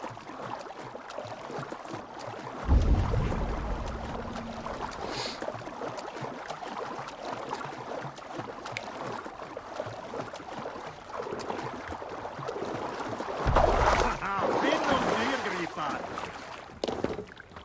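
Viking boat gliding over water in Assassin's Creed Valhalla, with steady splashing and lapping waves under a continuous wash, louder surges near the start and again toward the end.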